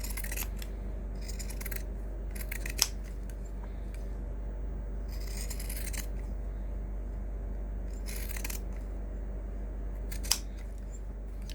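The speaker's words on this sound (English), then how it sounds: "I just use my pinking shears" Pinking shears snip along the edges of sewn fabric for a bag, close and crisp. Several runs of quick crunching cuts come at intervals over a quiet, humming room.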